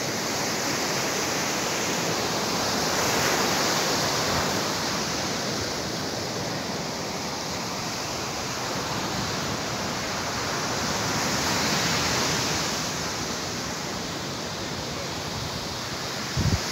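Surf rolls in at a beach in Patong, Phuket, a steady broad wash of waves with gentle swells in loudness every several seconds, close and continuous with no voices.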